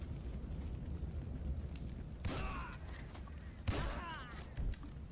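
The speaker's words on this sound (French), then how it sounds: "Allez, on va lui mettre un coup de fusil à pompe." Two pump-action shotgun blasts go off in the video game GTA V, each a sudden broad boom with a short ringing tail, heard over a low, steady game background.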